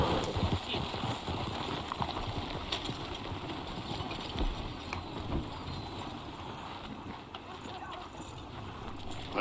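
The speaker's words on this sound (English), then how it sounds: "It's a nice horse you got there." A horse named Samba walks on a hard surface, hooves clip-clopping steadily and fairly close amid continuous outdoor noise, while people chat nearby.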